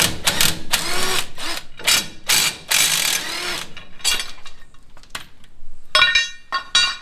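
Old U-bolts are worked loose from the axle of a 1934 Plymouth with a ratchet. Close, loud bursts of metallic ratcheting and clinking come in quick rhythmic runs, separated by short pauses.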